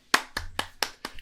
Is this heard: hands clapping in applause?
yes